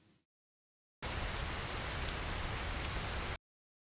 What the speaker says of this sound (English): I do think it's just the rain.